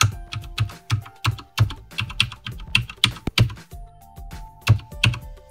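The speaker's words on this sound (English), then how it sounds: "I'm going to hold a button on the keyboard and configure whatever buttons I want to be the controller." Computer keyboard keys are pressed one at a time while buttons are mapped as controller inputs for a Freeplay CM3 handheld. The key clicks are close and crisp in a steady, uneven rhythm, with faint tones in the background.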